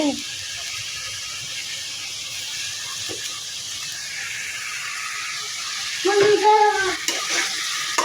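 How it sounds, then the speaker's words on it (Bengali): Bitter gourd sautéing in a hot pan, a steady soft sizzle and hiss running throughout, with brief stirring scrapes near the end. "আমি আগে করলাগুলো একটু কষাই ফেলবো।"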